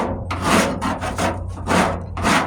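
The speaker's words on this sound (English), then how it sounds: "I just take this metal brush and I just get out some of the old Bondo cheese" A metal wire brush scrubs old Bondo filler off the wheel arch of a 1998 Ford Ranger in about six rhythmic back-and-forth rasping strokes, close and loud, with no talk.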